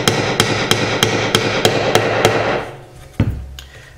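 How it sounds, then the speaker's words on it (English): Steady, evenly spaced hammer blows on a 3/8 dowel against a flat surface during an electric guitar build with a Floyd Rose install, about eight loud, close strikes followed by a final heavier knock. "Just have a nice flat plane to hammer on here."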